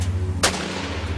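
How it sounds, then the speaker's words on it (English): A single sharp gunshot-like crack bursts out over a steady low hum, loud and brief, as part of a documentary account of a shootout. "a flurry of panicked gunfire breaks out between the Marshals and the boys"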